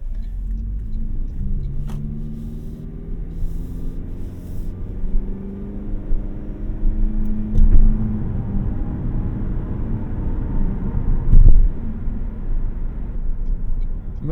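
Inside a 2024 Toyota Prius Prime XSE Premium while driving, a steady low road rumble and tire drone fill the cabin, with occasional thumps over bumps and a soft motor hum, close and continuous without talk.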